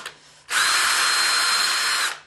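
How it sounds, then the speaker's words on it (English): A power drill bores a small hole during a Dobsonian telescope build, a loud steady high whine starting abruptly after a short pause and running for about a second and a half before cutting off. "you then want to work the drill putting just the very gentlest of pressure in a 360-degree circle"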